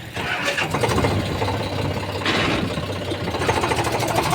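A tractor engine chugging steadily nearby, a loud continuous rhythmic knocking drone that holds at an even level throughout.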